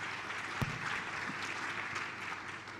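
Audience applause at a summit, the World Government Summit 2023 in the UAE: a steady, dense wash of clapping from a crowd that holds evenly for a few seconds, with one sharper clap standing out.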